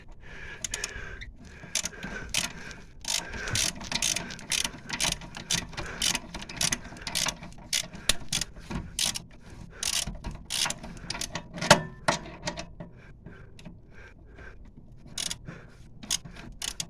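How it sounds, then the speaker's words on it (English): A flexi head ratchet clicks rapidly in repeated bursts while undoing the rear brake caliper bracket bolts on a 2011 Vauxhall Insignia. The clicking is close and sharp, with short pauses between strokes and no talk. "the easiest way to get to these bolts on the back of the caliper bracket is with a flexi head ratchet"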